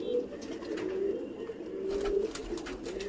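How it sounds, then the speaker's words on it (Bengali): Domestic pigeons cooing softly in a loft, low repeated coos under a faint background hiss, fairly close but quiet. "এই ঢুকে গেল পায়রাগুলো।"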